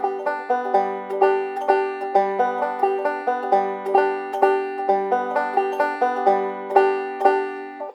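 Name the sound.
banjo basic rolling backup pattern in waltz time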